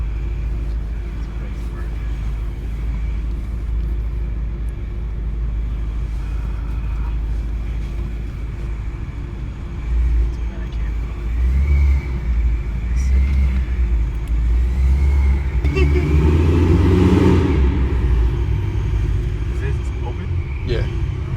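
A 700 hp Ford Mustang GT with a 5.0 V8, Procharger supercharger and headers rumbles loudly up close, its low idle swelling into a heavier rev toward the end while people talk over it.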